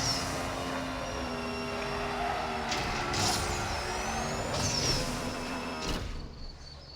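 Racing car engine in NFS No Limits pulling hard under acceleration, a steady loud synthetic drone with rising tonal whines and gear-shift swells, fading slightly near the end.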